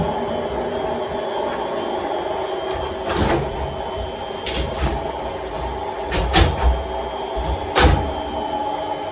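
A Bosch washing machine runs with a steady hum and whine, broken by a few clunks and sliding knocks as parts shift, close and moderately loud.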